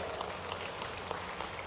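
A large audience at a political rally in Rajgarh claps continuously, a dense, steady wash of applause with scattered sharper claps standing out, no speech over it.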